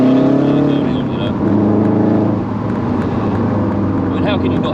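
Engine of a 315bhp Subaru Hawkeye WRX driving: a loud, steady low drone with a gear-change dip midway and a slight rise near the end.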